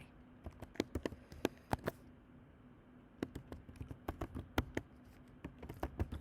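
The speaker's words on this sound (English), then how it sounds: "I'm going to just type," Typing on a computer keyboard sounds close and quiet: two quick clusters of crisp key clicks separated by a brief pause.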